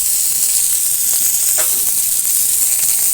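Chopped tomato and a slit green chili fry in hot oil for a Bengali katla fish kalia curry, giving a loud, continuous close-up sizzle with faint crackles and no voices.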